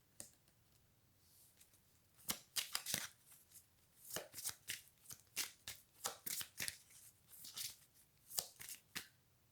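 Cards being shuffled, in repeated short riffling bursts with brief pauses between them, close and crisp with no talking.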